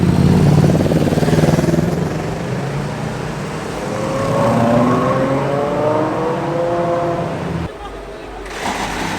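Ferrari 812 supercar driving past at the Monaco Grand Prix, engine note rising and falling as it passes, loud and close amid a crowd, with people talking over it.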